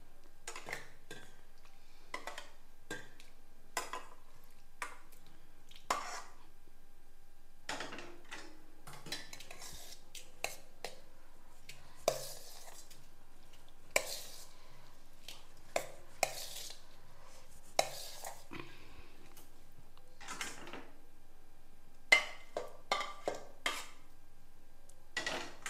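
Cooked rice stirred together with tamarind mix in a metal vessel for puliyodharai: sparse, scattered clinks and scrapes of a spoon against the pot, faint and irregular, with quiet gaps between them.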